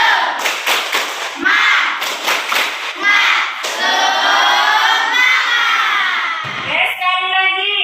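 A classroom of children stands and does a rhythmic spirit clap led by the teacher. Sharp bursts of group clapping come in quick patterns, followed by loud children's chanting and shouting, with a voice cutting in near the end.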